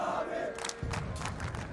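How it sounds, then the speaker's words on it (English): A large esports crowd at a Counter-Strike: Global Offensive major in Stockholm chants for Na'Vi, a rhythmic roar of massed voices swelling in waves, heard at a distance through the arena. "The Na'Vi chant continues."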